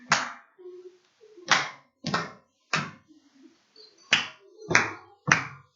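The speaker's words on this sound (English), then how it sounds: "Can you clap at a walking pace for me?" Single student clapping alone at a walking pace in a classroom, seven sharp claps spaced unevenly about two-thirds of a second apart, close and clear with faint murmurs between.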